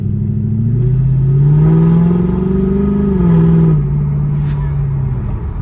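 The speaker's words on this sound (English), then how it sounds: "I'm just driving to charge the battery." Mercedes CLK63 driving along, its engine droning loud and close inside the car with a rising then falling pitch as it accelerates and eases off, settling into a steady hum, with no talk.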